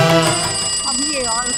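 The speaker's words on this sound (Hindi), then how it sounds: "अब ये और किसका फोन आ गया?" A phone rings indoors, its electronic ringtone melody playing continuously and fairly loud throughout the short stretch, with a voice mixed in under it.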